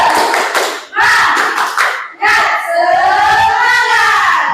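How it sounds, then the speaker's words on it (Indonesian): A school group performs tepuk semangat, the Indonesian rhythmic spirit clap, in loud sharp bursts separated by brief pauses, mixed with voices chanting along close by. "akan saya berikan aba-aba tepuk semangat dan kalian tepuk semangat satu kali saja"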